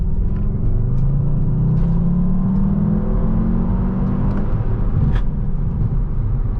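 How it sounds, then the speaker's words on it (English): A 2016 VW Jetta GLI with a six-speed manual pulling hard from second gear, its engine note rising steadily in a smooth, linear drone under constant road rumble, heard from inside the cabin. "Let's do one more pull here. This is from second gear."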